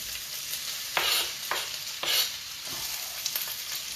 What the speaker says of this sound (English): First thing I'm going to do is put my onions in.